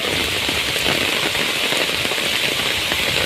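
Heavy monsoon rain in Sindhudurg, Konkan, roars steadily and loudly under a red alert, a thick, constant wash of falling water close by, with no talking and no pauses.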